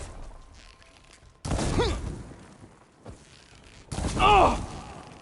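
Two loud bursts of video game gunfire break in sharply over a quiet background, each a dense blast followed by strained voice-like cries.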